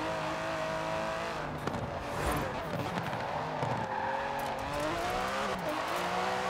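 A baby Aston Martin in Forza Horizon 4 revs hard with a torquey engine, tires spinning and squealing as it climbs through gears, a loud continuous engine drone with rising and falling pitch and no talk over it.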